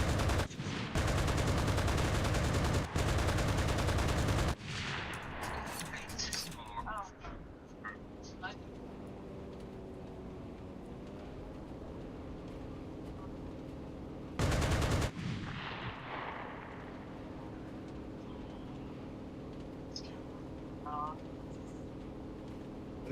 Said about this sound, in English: Artillery motors, machine guns.